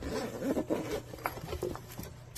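Zipper on the hard carrying case of a COLBOR CF5 mini 40W portable smoke machine pulled open in a few quick, close rasping strokes.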